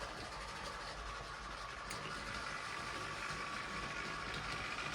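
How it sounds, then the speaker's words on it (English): A Heljan Class 25 model locomotive runs with its wagons, one of them rickety, giving a steady close hum and faint rolling clatter throughout, with no voices. "One of the wagons sounds a little bit rickety"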